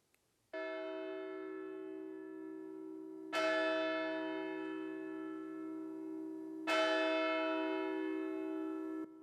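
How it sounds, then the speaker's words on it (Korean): Three deep, resonant strokes of the New Year's Eve bell at Myeongdong Cathedral in Seoul, evenly spaced about three seconds apart, each long humming tone lingering until the next strike, clear and alone. "제야의 종소리가 울리고"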